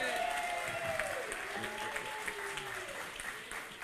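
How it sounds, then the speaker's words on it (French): An audience of adults claps steadily for children dancing, a soft, fairly distant patter heard alongside a playing melody, with no pause through the few seconds. "j'aimerais ça qu'on applaudisse les enfants parce qu'ils dansent très bien."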